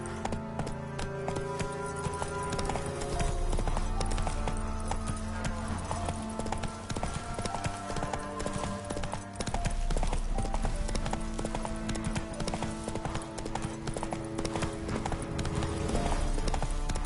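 Roach, the horse in the Witcher 3 video game, gallops with a steady rapid clip-clop of hooves over a low continuous rumble, close and unbroken throughout.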